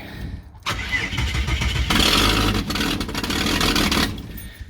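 A Ford XG car engine with a replacement AU Ford catalytic converter cranks after a brief pause, then catches and roars loudly, running rough and revving for a few seconds before settling slightly.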